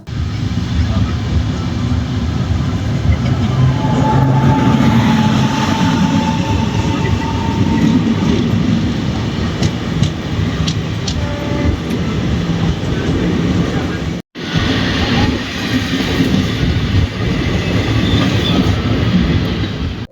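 The 12675 Kovai Express runs from Chennai to Coimbatore on the stretch out of Chennai Central toward Arakkonam, heard on board as a loud, continuous rail rumble with rhythmic wheel clatter and a short break near the middle.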